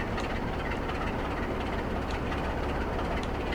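A train running in the Trainz console game on the Scottish East Coast Main Line near docks, a steady dense rumble with faint rhythmic clatter, continuous and fairly loud with no voices.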